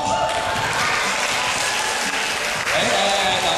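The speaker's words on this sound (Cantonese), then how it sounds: "我哋不如配最熱烈嘅掌聲俾佢好嘛？" A crowd at a magic show during a mall event in Hong Kong breaks into loud, sustained applause for a young performer, a dense wash of clapping that fills the whole stretch without pause.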